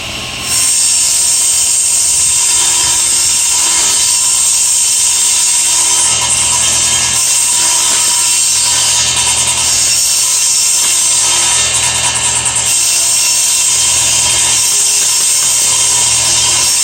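A power saw cuts a piece of wood to width in one long, loud, steady whining pass that runs close and continuous for nearly seventeen seconds, with no talk.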